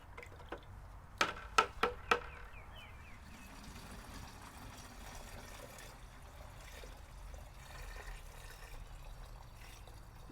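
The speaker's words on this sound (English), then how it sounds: "it's hard to fill a can like this without slopping it around" Diluted fish fertilizer being poured into a watering can on the ground, a steady trickling and splashing of liquid with a few sharp knocks near the start.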